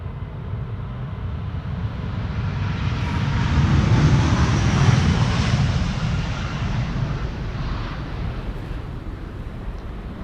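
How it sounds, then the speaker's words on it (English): A Delta Air Lines Airbus A330neo jet departs Amsterdam Schiphol bound for Boston, a deep engine roar rising to a loud peak around the middle, then slowly fading as it pulls away. "This is Delta Airlines flight 243 going to Boston, Massachusetts, A330neo."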